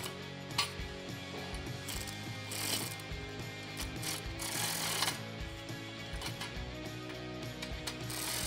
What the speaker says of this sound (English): we can put the rails together and thread on those cap nuts